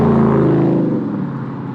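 A Ford Mustang with a stock muffler drives past close by, a loud engine note that fades away steadily over under two seconds.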